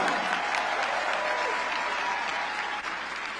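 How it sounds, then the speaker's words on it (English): Steady applause from a crowd, a continuous wash of clapping that holds at an even level throughout with no voices standing out. "Give them a round of applause."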